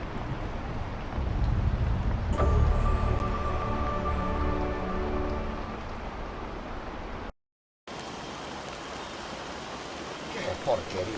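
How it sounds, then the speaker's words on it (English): Steady rain falls in a video game scene, a broad hiss with a soft musical tone rising partway through, then a brief dropout to silence before the rain noise returns. "Yes, indeed the rain is annoying"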